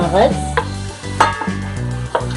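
Boiled goat brain is stir-fried with masala in a pan, with repeated scraping and clacking stirs over a steady droning background.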